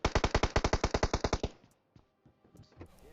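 An automatic weapon in the mobile game PUBG Mobile fires a rapid burst of about fifteen loud, evenly spaced shots, followed by faint scattered game sounds with no talking.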